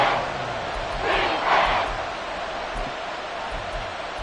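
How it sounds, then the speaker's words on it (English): Stadium crowd noise from a football video game, a steady broadband roar that swells briefly in the middle and then settles back to a sustained din, with no voices clearly standing out. "This crowd turning up the decibel level."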